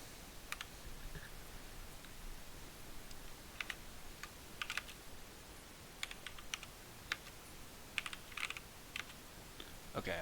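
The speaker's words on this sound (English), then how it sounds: "I'm actually looking at what I'm typing now." Quiet, irregular tapping and clicking of a computer keyboard while someone types at a desk, with bursts of keystrokes and short pauses under a steady hiss.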